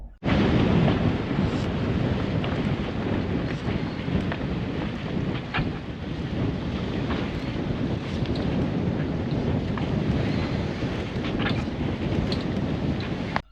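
A sailboat at night runs in strong 15 to 20 knot winds, with loud, continuous wind roar buffeting the microphone and the rush of water and the boat beneath it throughout, and no talking.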